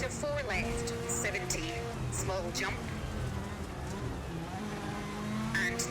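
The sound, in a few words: race car engine in a racing video game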